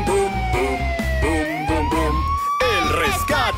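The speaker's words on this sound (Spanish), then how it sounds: "La ambulancia ya llegó." In a cartoon, an ambulance siren wails in a rising and falling sweep beneath a song and voices, loud and close throughout.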